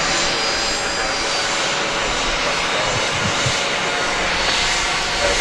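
Airliner arriving to land at Dallas Love Field, a steady, loud broadband engine roar holding throughout with no talk.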